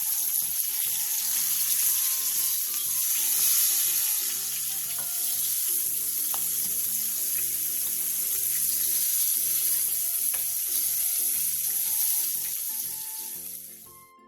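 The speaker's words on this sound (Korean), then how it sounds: "바닥이 노릇노릇해지면 뒤집어 마저 노릇노릇하게 구워주세요." Mackerel pan-fries in hot oil, giving a continuous close sizzle with faint crackles and a background music track layered underneath.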